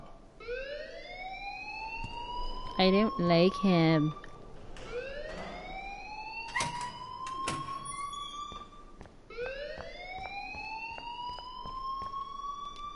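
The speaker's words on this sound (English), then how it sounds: "please turn off that alarm since that's your job" A school alarm in the video game Life is Strange rings out in repeated rising electronic wails, loud and close, with a burst of harsher pulsing tone partway through and people talking under it.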